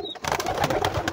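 Homing pigeons in a loft put out a soft, continuous low cooing and rustle, close and steady, with several birds overlapping and no voices.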